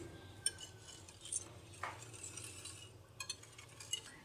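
A whisk or spoon clinks faintly against a bowl while eggs, sugar, milk and cinnamon powder are mixed together, with soft scattered taps and scrapes over a quiet kitchen background.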